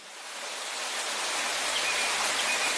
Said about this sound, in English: We woke up to the sound of rain pelting the top of Edward's camp.